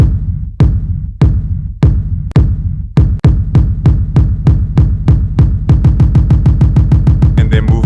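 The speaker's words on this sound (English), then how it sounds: "And then move to EDM beat again." An EDM beat programmed on an iPad thumps with deep kick hits, widely spaced at first and then quickening into a rapid, dense pulse, loud and with no talking.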